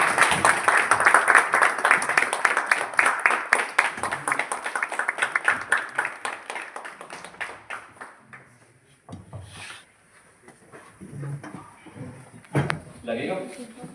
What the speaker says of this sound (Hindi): हम सब लोग जोरदार तालियों से स्वागत करेंगे